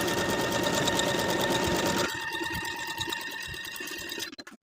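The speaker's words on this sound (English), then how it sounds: "I'll start at the top of the neckline and continue those finishing stitches all the way to the bottom of the garment." A sewing machine runs finishing stitches along the raw edges of a garment from neckline down, a loud, close, continuous whir that drops to a lower, slower hum halfway through before stopping, with no talking.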